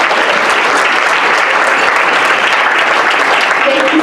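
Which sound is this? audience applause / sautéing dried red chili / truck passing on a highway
audience applause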